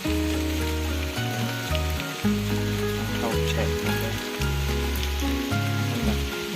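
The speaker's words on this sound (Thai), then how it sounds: "ทุกคนครับคือตอนนี้เจอฝนครับ" Rain pours steadily in a forest during a storm, a dense hiss running under loud background music, with a brief spoken word.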